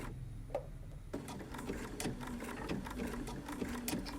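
A sewing machine stitching fabric applique under a clear presser foot runs in steady rapid bursts, close and fairly quiet, with a brief pause before the stitching resumes.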